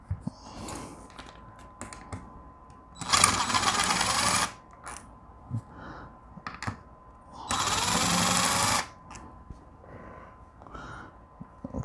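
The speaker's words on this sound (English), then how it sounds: "These are all 12mm bolts, which is why we use the impact for." Two bursts of a pneumatic impact wrench spinning out 12mm bolts from the power steering pump of a Mazdaspeed, each a loud buzzing rattle lasting about a second and a half, separated by clinks and handling noises.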